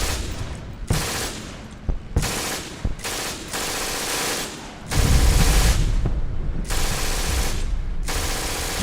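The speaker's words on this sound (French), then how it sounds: "ouvrait le feu avec la mitrailleuse" Loud machine-gun fire in a WWII-style battle, with repeated rapid bursts broken by short pauses and then a longer sustained stretch of heavy gunfire near the end. No voices are heard.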